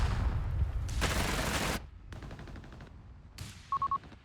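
Machine-gun fire from a Company of Heroes 3 3v3 battle on the Summit map, heard as several loud, dense bursts of rapid shots, with a short electronic beeping tone near the end.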